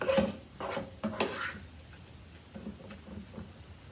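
Meat cooks slowly in a pan, heard as soft clinks of a utensil against the cookware early on, then a quiet, low sizzle that fades under the following moments.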